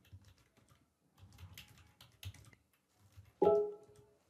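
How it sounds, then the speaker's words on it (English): Soft, quick keystrokes on a computer keyboard while an email is typed, coming in irregular bursts with short pauses and ending in one louder click or thud. "Then here I am typing this."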